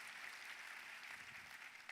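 Faint, distant applause from a church congregation, a steady wash of many hands clapping for a couple of seconds.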